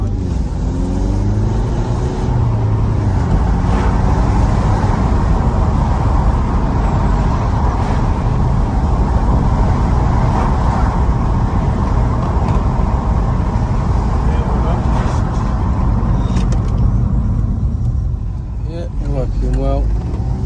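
A BMW 1 Series with newly fitted brakes drives along a road, its engine and tyre roar steady and loud throughout, with a voice talking over the cabin noise.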